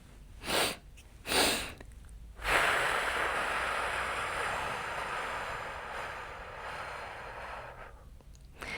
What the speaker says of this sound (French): Tu vas prendre 2 inspirations de suite et ensuite expirer longuement.